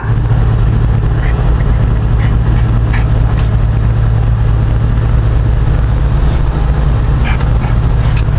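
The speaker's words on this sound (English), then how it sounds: "I got the windows down so you can hear the engine." A Jeep Wrangler JK fitted with an L92 6.2 V8, a 6L80 transmission and a MagnaFlow muffler cruises with the windows down, its engine giving a loud, steady, deep drone throughout with little change in pitch.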